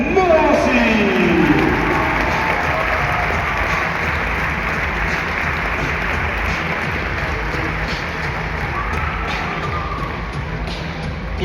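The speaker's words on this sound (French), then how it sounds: "Je vous demande d'applaudir Romuald Morancy." A basketball arena crowd at a Pro B game between Vichy Clermont Métropole and Rouen applauds a player in a steady, sustained roar of clapping, with an announcer's voice over the public address near the start.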